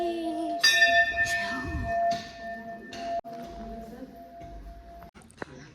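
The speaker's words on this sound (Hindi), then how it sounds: "मैंने ना घंटी बजाई अंदर जाते हुए भी और बाहर आते हुए भी।" Hindu temple bell at a hillside Balak Devta shrine, struck a few times so bright metallic rings sustain and overlap close by, with voices talking faintly underneath.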